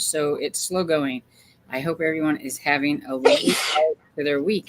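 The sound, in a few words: sneeze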